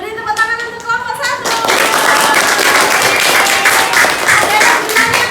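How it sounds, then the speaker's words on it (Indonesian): A classroom group gives a burst of hand clapping that starts after a short spoken moment and continues as steady, mid-distance applause for the rest of the time. "Beri tepuk tangan untuk kelompok 1."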